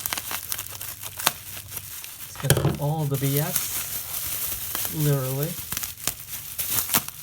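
Crinkling and rustling of layers of plastic wrap being pulled off a new iPhone 5, crisp close crackles under intermittent talking.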